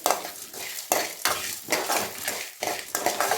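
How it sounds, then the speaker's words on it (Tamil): Masala spices roasting in oil over a medium flame, a soft sizzle broken by several distinct scraping strokes of a spoon stirring the pan, close by and without speech. "ஒரு மீடியம் ஃப்ளேம்லேயே வச்சுட்டு வாசனை வர வரைய வறுத்துக்கலாம்."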